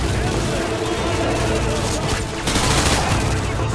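Dense, continuous gunfire from the video game Call of Duty: Modern Warfare 2, with rapid bursts and heavy shots layered into a loud, sustained battle din that swells near the end.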